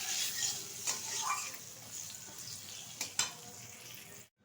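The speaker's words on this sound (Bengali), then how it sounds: "এখন পটলটা ভালোভাবে আমি ভেজে নেবো।" Pieces of pointed gourd (potol), pre-salted, fry in hot oil with a quiet continuous sizzle and occasional crackles and pops, a few sharper spatters near the end, no talking.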